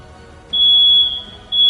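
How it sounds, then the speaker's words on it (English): A smoke-style fire alarm blares indoors, loud and close, with a long piercing tone that stops briefly and then resumes. "Why is the fire alarm going off?"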